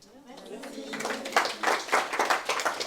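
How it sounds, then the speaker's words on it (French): Applause from an audience at an author masterclass, starting faint and building into moderate, steady clapping over a few seconds, with a voice briefly heard at the start. "Applaudissements"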